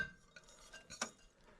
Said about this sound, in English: Go ahead and give that another stir.